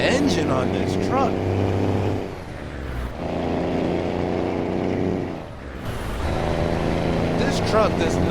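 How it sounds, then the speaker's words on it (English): A Kenworth T2000 truck engine in American Truck Simulator drones loud and steady, swelling and dipping twice as it changes gear, with a voice talking over it in places. "I am liking the engine on this truck."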